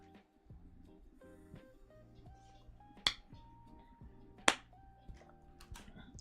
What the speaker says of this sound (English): you can hear me like opening my water bottle,